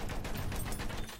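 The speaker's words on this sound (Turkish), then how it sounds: "Düşman makinalı tüfek." Enemy machine gun fire in the Battlefield 1 video game, a rapid continuous burst of shots at moderate distance, dense and fairly quiet.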